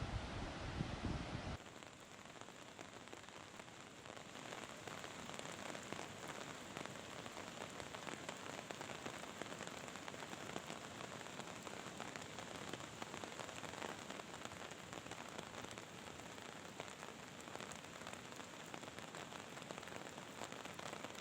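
Steady rain falls beside the swollen Yamuna river at Barkot, a continuous even hiss of drops on surfaces with no talk over it.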